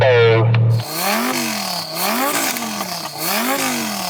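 A Lamborghini Huracan engine with a soft limiter set at 4,000 RPM rises in loud, repeated revs, each swell bouncing off the limiter before falling back, three or four times in a row, close and alone.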